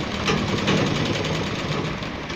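Sewing machine stitching the pocket onto a gents' kurta, a rapid continuous mechanical whir with fast needle rhythm, close and steady for the short stretch with no talk.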